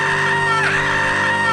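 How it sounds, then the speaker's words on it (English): Sustained screaming and yelling from a crowd in a 1959 William Castle horror film trailer for The Tingler, loud and steady throughout with a brief swell midway. "In the trailer for the film, William Castle assures filmgoers that they will be safe from the tingler as long as they scream."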